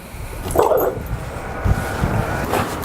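A dog named Panzer whimpers and lets out a few short, muffled barks nearby during a behavioral assessment. The sounds come in brief, scattered bursts over a low background rumble.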